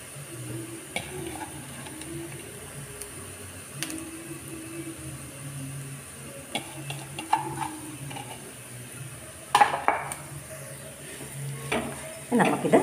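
Shredded dried meat fried in a pan over lowered flame, with a soft continuous sizzle and scattered scraping and stirring knocks from a utensil, growing busier toward the end; no talking.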